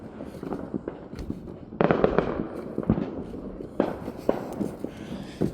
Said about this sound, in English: Sometimes it's hard to judge where these fireworks are coming from.